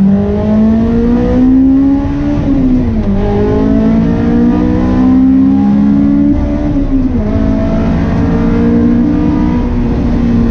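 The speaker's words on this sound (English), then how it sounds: "Feels great driving the S back, man." Honda S2000 driving and revving, a loud close engine drone that climbs in pitch, drops at a gear change around two and a half seconds, then climbs again and shifts once more, continuous throughout with no talk.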